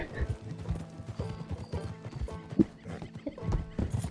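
Horse hooves clip-clopping with a neigh in the video game Red Dead Redemption 2, mixed with game sounds and a voice talking over the action.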